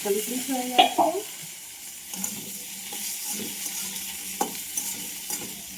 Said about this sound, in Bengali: দিয়ে দিয়েছি বেগুন কিছুটা ভাজবো